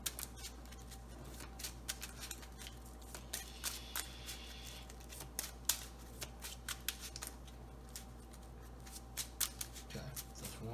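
Soft, quick riffling and flicking of a Transformers trading card game deck being shuffled, repeated in short bursts over a low steady hum, close and fairly quiet.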